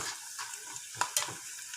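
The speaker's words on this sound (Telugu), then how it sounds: "పల్లీలు కొద్దిగా వేపుకోవాలి." Peanuts fried in the leftover oil after okra for a dry coconut bhindi fry, a soft steady sizzle with a couple of sharper pops and stirring scrapes near the end, heard alone at close range.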